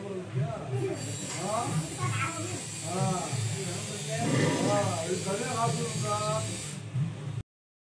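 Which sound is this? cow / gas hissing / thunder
gas hissing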